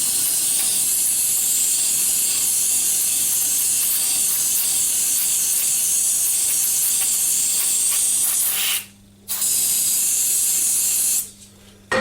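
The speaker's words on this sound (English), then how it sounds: "I will use this cold spray to cool it even more down." Cold aerosol spray hissing onto a freezer-chilled bushing while machining a two-part combination gear for a welding positioner; a loud, continuous close-up jet that stops briefly twice before resuming.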